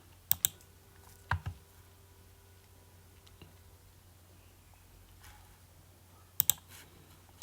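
Several sharp computer mouse clicks while placing a trading order on a desk setup, sounding as isolated close double clicks separated by quiet pauses, with faint room hum between them.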